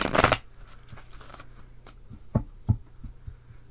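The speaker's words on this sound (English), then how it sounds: "Give these one more shuffle." Tarot cards riffle in a loud burst at the start, then softer taps and handling of the deck follow, close and quiet.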